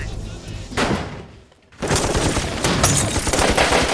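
Heavy film gunfire: sustained bursts of automatic fire and loud volleys, broken by a brief near-silent gap, then a dense, continuous barrage resumes, with faint voices mixed beneath.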